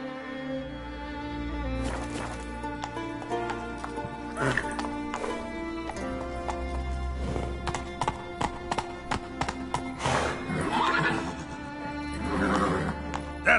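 Roach the horse galloping in the video game Witcher 3, rhythmic hoof clip-clops under game music and a voice urging the horse on, with a brief whinny.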